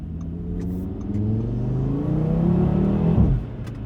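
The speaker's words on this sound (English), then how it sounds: "And yeah, downshifting is still a lot of fun." A 2018 Audi RS3 Sportback engine revs up in pitch and then blips sharply on a downshift, a loud, close, continuous engine note with no talk over it.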